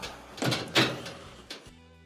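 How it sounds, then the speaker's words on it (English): A dryer door swings shut on a domestic clothes dryer under repair, giving a few soft knocks and a duller thunk, close by and alone. "We'll go ahead and close the door."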